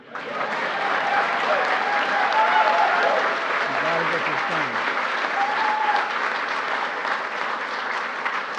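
Audience applause at a St. Patrick's Day celebration with a presidential address, a dense, steady wash of clapping throughout. Someone speaks briefly over it.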